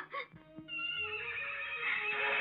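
A horse neighs in a long, rising whinny that grows louder toward the end, preceded by a few brief knocks, close and clear.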